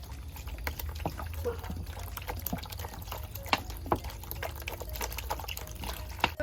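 Tap water pours into a basin for mixing an EM starter brew, a soft, steady trickling splash with scattered drips, faint and close.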